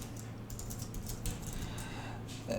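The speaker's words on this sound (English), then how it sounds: "then type in text" Soft, quick clatter of keys as text is typed on a computer keyboard, a faint close patter of keystrokes in short bursts with no voices.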